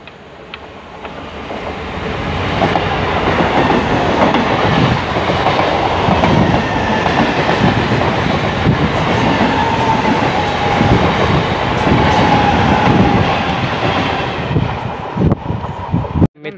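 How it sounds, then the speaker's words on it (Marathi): A crowded Virar–Surat shuttle local train pulls into a station platform. Its loud, continuous rumble of wheels and carriages swells and holds steady, then fades near the end, with no talking. "मित्रांनो आता ट्रेन आलेली आहे, तुम्ही इथं बघू शकतात"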